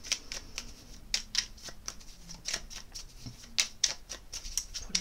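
Astrozane oracle cards being shuffled for a reading make a quiet, close series of quick papery flicks and taps in an uneven rhythm, with no talking.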